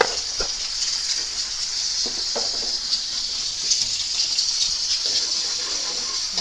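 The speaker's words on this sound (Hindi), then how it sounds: "अब हम इसमें डालते हैं पानी" Water gushes steadily in a hissing, splashing stream, close by, as it pours into a pot.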